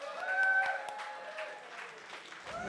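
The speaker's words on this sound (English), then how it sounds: "can we have another huge round of applause for Nick and the team" Audience applause at a live electronic music event, a brief wash of clapping and crowd noise mixed with music and voices.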